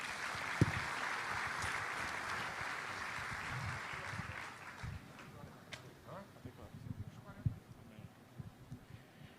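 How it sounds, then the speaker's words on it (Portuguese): A church congregation applauds to welcome the pastor, clapping fading out after about five seconds into scattered thumps and footsteps. "Você pode receber com um aplauso"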